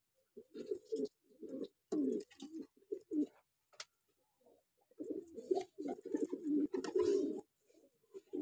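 Madrasi pigeons, a pair, coo in repeated low throaty phrases, several bursts close by with brief pauses between them and no voices.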